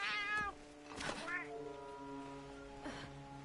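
A companion cat in the game Monster Hunter Wilds meows a few times, short tonal calls spaced across the clip over quiet background music, with a voice speaking nearby.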